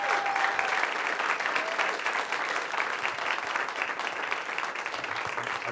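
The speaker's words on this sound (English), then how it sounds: "You can applaud now and again." Audience at a live Halloween horror-story show applauding, a continuous, even wash of clapping throughout with no break, fairly loud and close.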